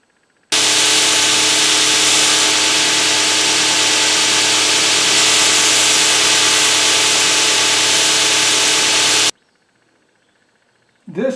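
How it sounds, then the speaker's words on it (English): A belt sander grinds steadily across a slab of chestnut wood for about nine seconds. The sound is a loud, even, hissing whir with a constant motor hum underneath, and it cuts off abruptly into near silence. "I'm going to dress up this half of it a little bit here on my belt sander"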